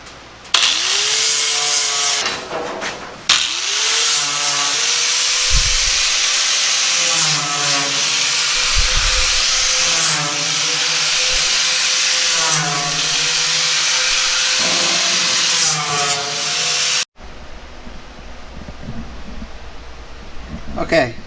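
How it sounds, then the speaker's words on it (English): Burrs are cleaned off metal parts for an M416 military trailer: a loud, close power-tool whir with a wavering, rising-and-falling whine over repeated passes. It cuts off abruptly, leaving softer rough noise. "I need to clean the burrs off the back of these"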